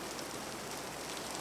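Steady rain falling, a dense uniform hiss of drops on a surface at even, moderate loudness with no other sounds.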